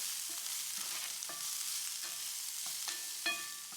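Onions with garlic sizzle in a pan for ratatouille, with a steady frying hiss and a few sharp scrapes and clinks of a spoon stirring, close and clear.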